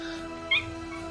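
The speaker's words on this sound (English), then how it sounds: "Look, guys, it's a cat." A house cat lets out one short, close meow in the middle of a quiet room, brief and clear over a low steady background hum.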